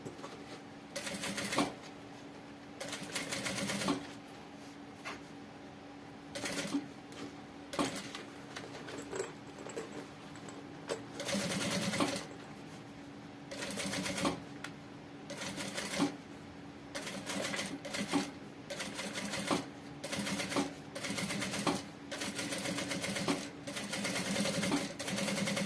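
A sewing machine runs in repeated short bursts, stitching a backpack lining to the main panel all the way around, with brief pauses between clattering runs of rapid needle strokes.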